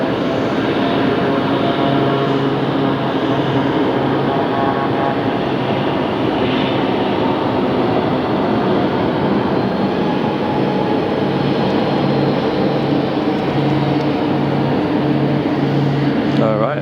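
Frontier airliner on landing, inbound from Los Angeles at Phoenix Sky Harbor, a loud continuous roar with steady engine drone across the whole span, with voices under it.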